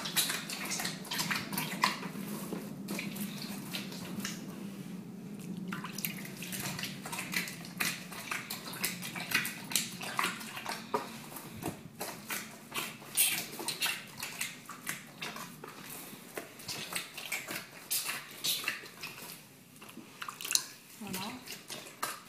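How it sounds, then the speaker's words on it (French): Bread dough for Arabic matlouh being kneaded by hand with splashes of water added, giving a steady wet squelching and slapping close by, with small drips and knocks throughout and no pause. "On malaxe comme ça un petit peu. Systématiquement en ajoutant un petit peu d'eau."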